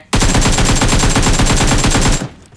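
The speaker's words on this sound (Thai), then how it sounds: "เสียงปืนอยู่ด้านหน้าเรานะ" A loud, close burst of rapid automatic gunfire in PUBG Mobile rattles nonstop for about two seconds, then cuts off abruptly.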